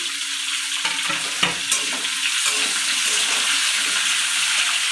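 Tomatoes added to a hot pan of pumpkin for a Bengali fish-roe chhokka, frying with a steady loud sizzle, occasional stirring scrapes and clinks breaking through the hiss.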